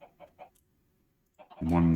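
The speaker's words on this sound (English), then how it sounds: "I'm in the chickens." Minecraft chickens cluck in three short, soft clucks, followed by a pause and then a louder burst of in-game clucking and squawking near the end.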